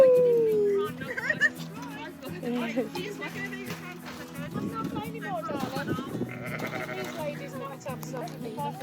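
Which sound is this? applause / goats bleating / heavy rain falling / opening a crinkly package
goats bleating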